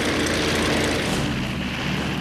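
Grumman Hellcat propeller fighter aircraft flying, a loud, steady engine roar filling the short stretch without a break and fading slightly toward the end.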